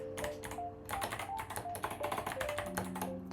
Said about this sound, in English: I'm typing really badly, but I have a new keyboard